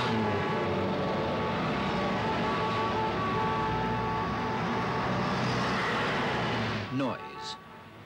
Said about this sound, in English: traffic, the dominant source of noise in all towns